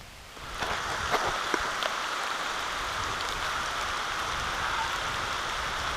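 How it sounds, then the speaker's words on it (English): Rain falls steadily through the woods, a dense, even hiss of drops on leaves and ground that swells in the first second and then holds constant, close and enveloping, with no voices. "It's raining."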